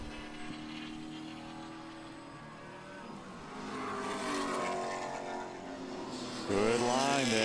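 BMW M3 race cars, including a blue and orange M3, compete in a Group 4 grand prix race at the O'Reilly Auto Parts Grand Prix. Engine noise drones steadily, swells as cars pass, then a loud, close car screams past near the end.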